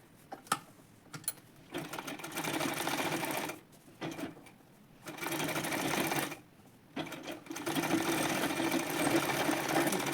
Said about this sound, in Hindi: बाकी इसमें साइड में एक स्टिच लगा लूँगी।